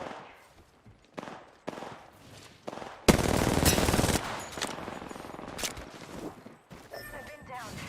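A loud burst of rapid gunfire rattles for about a second in Apex Legends, with quieter game sounds and scattered shots before and after, and a voice talking in places.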